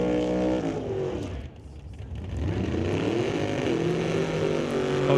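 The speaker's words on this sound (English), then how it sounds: "Great drag race" A 1969 Dodge Dart and 1969 Cuda drag race at an NHRA test-and-tune session, their loud engines roaring steadily with a brief dip in the middle, then rising again as the cars pull away.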